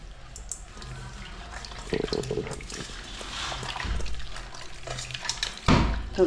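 Water running and splashing while small tilapia fish are washed in a kitchen, with close handling splashes and clatter, some louder bursts and a soft voice in the background.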